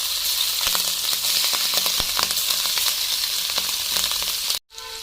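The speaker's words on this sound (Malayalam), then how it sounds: "ഇതിനകത്തേക്ക് നമുക്ക് കൊഞ്ച് ഓരോന്നോരോന്നായിട്ട് ഇട്ട് കൊടുക്കാം" Prawns for a spicy vindaloo frying in hot oil in a pan, a loud, close, continuous sizzle with scattered small pops, cutting out briefly near the end.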